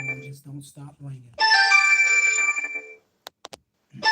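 A phone ringtone plays loudly for about a second and a half as a bright electronic tone, with someone talking just before it and short clicks after, during a live call-in Q&A.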